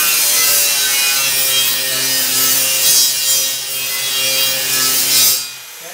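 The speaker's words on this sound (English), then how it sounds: "I'm just going to take the grinder and I'm going to grind a spot" A grinder scours a spot on metal in a welding shop. A loud, steady, hissing abrasive scrape runs with a faint tonal whine under it for about five seconds, then cuts off.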